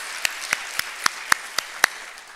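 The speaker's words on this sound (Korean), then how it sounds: "우리 다시 한번 주님께 큰 영광의 박수 드리겠습니다" A church congregation gives applause of slow, evenly spaced single claps, about seven sharp strikes ringing in a reverberant hall.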